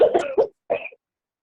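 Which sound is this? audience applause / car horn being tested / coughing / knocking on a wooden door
coughing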